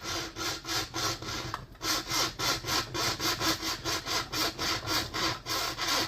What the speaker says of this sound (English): if you're using a saw, you want it to have a high teeth per inch, because that cuts plastic better than like low teeth per inch